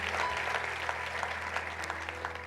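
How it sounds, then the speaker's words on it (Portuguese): Steady applause from a large church congregation, a dense continuous patter of clapping at moderate volume throughout. "Se você crê dessa forma, aplauda ao Senhor"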